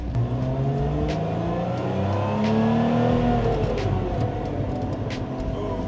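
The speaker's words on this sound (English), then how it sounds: "That was a good exhaust noise." Lotus Emira sports car exhaust revving, a loud sustained engine note rising and falling with a burbling rumble, heard from close by with no talking.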